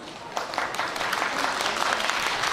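Steady applause rises from a festival crowd at a yosakoi dance performance during the Tsukaguchi festival 2024, a moderately distant, continuous patter of many hands.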